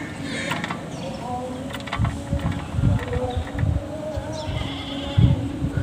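A goat with a belted coat pattern bleats several times at moderate distance over a steady background hum of insects and ambient noise.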